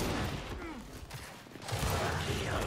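Rapid gunfire crackles through a ranked Control match in Gears 5, loud overlapping bursts mixed with other game effects, while a player talks over the action.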